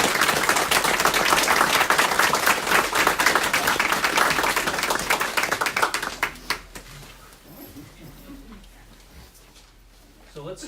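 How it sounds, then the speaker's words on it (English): Audience applause at a home dedication: dense clapping from a crowd for about six seconds, then thinning into scattered claps and quiet room sound. "So let's just have one more round of applause for Lauren and Kennedy"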